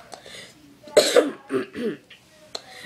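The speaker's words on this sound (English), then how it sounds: "Let me clear my throat." A person clears their throat with a few rough, raspy bursts close to the microphone, separated by short pauses.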